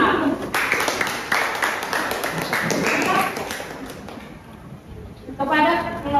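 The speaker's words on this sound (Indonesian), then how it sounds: "Berikan tepuk tangan yang meriah kepada kelompok 4 kelas A." A classroom audience claps for a student group presenting a civil law project, steady close applause mixed with voices, thinning out toward the end.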